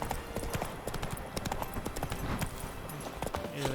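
Hoofbeats of the horse Roach galloping in The Witcher 3, a steady rapid clip-clop rhythm running throughout, close and fairly loud over a game soundscape with no talk.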